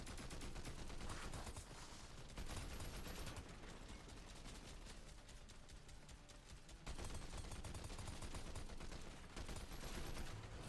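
Rapid bursts of automatic gunfire in Fortnite Save the World, sustained stretches of shooting broken by short pauses, loud and close with no talking.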